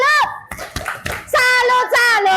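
A fifth-grade class gives a short rhythmic clapping salute in a school lesson, a few sharp hand claps mixed with children's chanting voices that dominate the brief moment.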